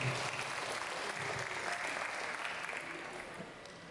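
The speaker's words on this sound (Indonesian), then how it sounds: "Tepuk tangan dong buat puisinya sama Abu Bakar" An audience at a school Halal bi Halal Idul Fitri gathering applauds after a poem recitation, a sustained even wash of many hands clapping, somewhat distant and soft.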